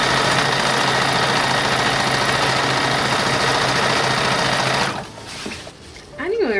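Sewing machine running steadily while stitching a facing onto the hem of a silk doll skirt, a loud continuous whir that stops abruptly near the end, followed by quieter handling sounds.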